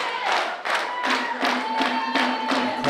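A wrestling crowd at an NWL Kansas City live event claps in rhythm for Davey Vega, with steady loud handclap bursts about twice a second and a faint horn-like tone underneath.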